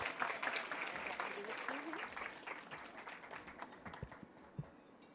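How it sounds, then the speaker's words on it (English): Audience applause fills a hall at an award ceremony as a People's Choice Award winner walks on stage, a dense, steady clatter of hands that thins slightly toward the end, with occasional sharper claps standing out. "Keep that applause going for her."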